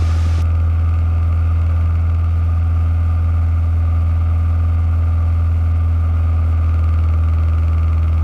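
A Cessna 172 engine holds steady at 2,450 RPM cruise power, a loud, constant droning hum with a smooth propeller throb and no break throughout.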